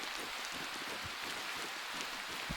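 Rain falls steadily in the video game Lucy, Get to the Tower!, a soft, even hiss with faint scattered patters and no other sounds over it.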